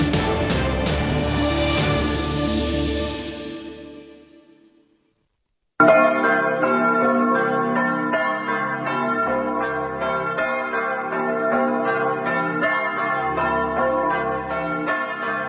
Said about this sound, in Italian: sono tornate a suonare ieri pomeriggio le campane di Sant'Ulderico di Dolina